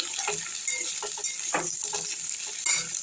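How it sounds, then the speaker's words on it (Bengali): Potato pieces frying in a pan for a sour spinach dish are stirred with a utensil, giving steady close sizzling with scraping strokes and small clinks against the pan. "আলুটাকে একটু নেড়ে নেবো এভাবে"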